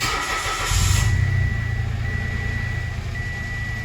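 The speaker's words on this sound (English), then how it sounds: "Obviously, you're going to start your car" Mitsubishi Mirage 2014-or-later 1.2 L three-cylinder engine starting, a brief crank catching into a steady close idle with a faint high whine, no talk.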